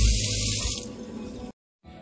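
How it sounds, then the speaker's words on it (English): Cold tap water runs into a kitchen sink over mojarra fish being cleaned, a close steady splash that cuts off sharply, followed by a brief silence and a faint resumed sound. "Make sure your fish is running under cold water and it's nice and clean"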